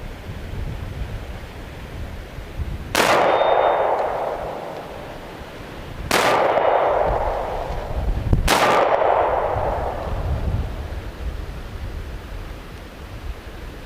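Three sharp, loud gunshots from a Beretta Nano 9mm pistol crack out at irregular intervals, each followed by a brief echoing decay over quiet outdoor background.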